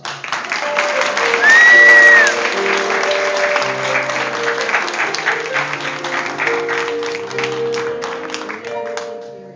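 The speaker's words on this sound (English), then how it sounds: "So let's have a round of applause for us." Guests at a 100th birthday party break into loud applause, with a sharp whistle and scattered cheering voices early on, the clapping holding strong for several seconds before slowly tapering.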